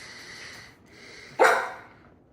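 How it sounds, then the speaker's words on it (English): A Yorkie gives one sharp, close bark in a quiet indoor kitchen, following a softer whine-like sound. "we have a Yorkie that is just, has to be the center of the world, and he wanted Michael to play with him"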